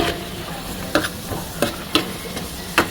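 Chopped garlic, onion and three dried red chillies fry in hot oil in a small pan, giving a steady low sizzle broken by a few sharp scraping strokes of a spoon, close and moderately loud with no talking.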